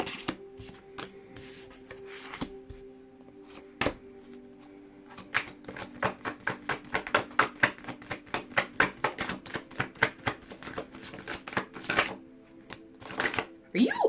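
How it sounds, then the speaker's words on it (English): Cards are shuffled repeatedly, a rapid run of crisp riffling flutters and taps, close up, with low talk underneath. "in between shuffling the other cards"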